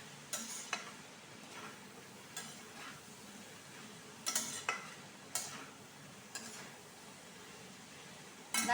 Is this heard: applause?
no